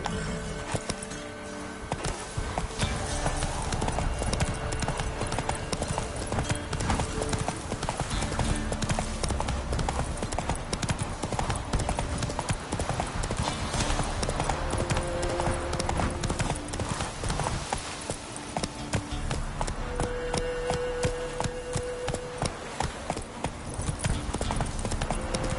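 Roach, the horse in The Witcher 3 on PS5, gallops hard and without a break in a dense, loud drumming of hooves. Game sounds fill the background, with faint voices now and then.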